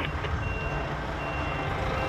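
A truck reversing into an entrance on a blocked road, its backup alarm beeping steadily over a loud engine rumble close by, with no voices.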